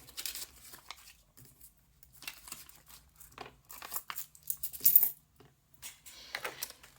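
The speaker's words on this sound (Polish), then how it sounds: "Trzydzieści pięć złotych do koperty." Złoty coins and notes being tucked into a paper envelope: scattered light clinks, rustles and crinkling paper in short, close bursts, quiet, with brief pauses between handlings.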